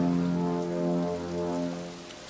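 Steady rain pours during a stormy night scene in a French animated fairy-tale film, a continuous wash of falling drops under sustained low musical tones that fade slightly toward the end.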